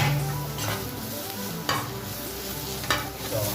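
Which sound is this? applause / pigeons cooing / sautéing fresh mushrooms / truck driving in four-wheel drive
sautéing fresh mushrooms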